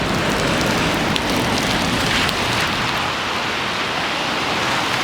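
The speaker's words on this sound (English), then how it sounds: "heavy rain in Chiang Mai this afternoon, and now it's just kind of drizzling, it's just kind of wet" Light drizzling rain in Chiang Mai after a heavy afternoon downpour, heard as a steady, even hiss of drops falling on wet surfaces, constant and close with no voices.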